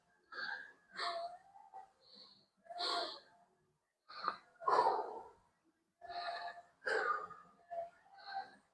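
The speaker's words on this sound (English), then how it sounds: "I'm breathing, see? Catching my breath right now" A person breathes heavily after exercise, taking rapid, ragged breaths and gasps in quick repeated bursts, close and fairly quiet, with no other sound between them.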